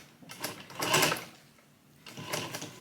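A sewing machine top-stitching pieces of upcycled fabric for DIY shorts, whirring in two short bursts that rise and fade with a pause between them, fairly quiet and close.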